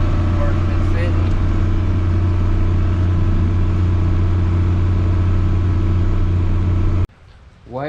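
John Deere 4640 tractor engine idling loud and close with a steady low diesel rumble, cutting off abruptly near the end.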